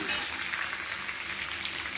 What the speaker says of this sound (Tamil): அது போட்டுட்டு இந்த எண்ணெயிலே நல்லா வதக்கிடலாம்